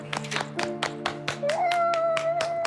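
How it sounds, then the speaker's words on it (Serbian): An audience claps in a steady rhythm, sharp hand claps falling in time over background music with sustained tones. "Aplauz!"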